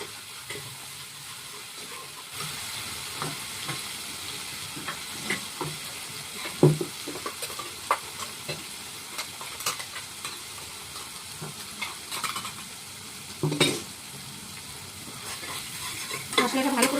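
Food frying in hot oil in a pan, a continuous soft sizzle and hiss with irregular scrapes and knocks of a spoon stirring, several sharper clatters along the way and no talking.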